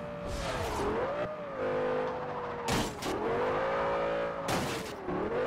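A fast car roars through Forza Horizon 2, its engine holding a loud, steady drone that dips and climbs as gears shift and the revs rise, with bursts of tire noise scattered through the run.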